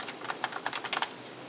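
Fast, irregular clacking of keys on a computer keyboard from a new home PC setup, close and clear over a steady background hiss with no voices.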